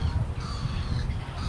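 A crow caws at Walton Bridge outdoors, harsh calls sounding over a constant rumble of wind or traffic noise.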